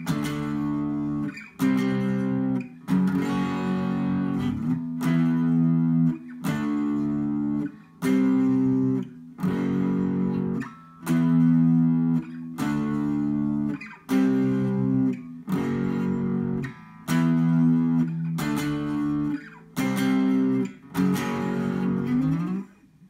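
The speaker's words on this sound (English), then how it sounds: "playing only with light gain rather than the heavy distortion we've used throughout the rest of the song" Electric guitar playing a song with light gain instead of heavy distortion, repeated chord strums ringing out in steady phrases with short breaks between them, loud and close with no voices.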